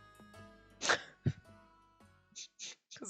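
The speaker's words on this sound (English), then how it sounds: "Somebody's always talking about me then because I sneeze all the motherfucking time." One sharp, explosive human sneeze bursts out up close, followed by a short breathy catch and a few faint, brief vocal sounds in an otherwise quiet room.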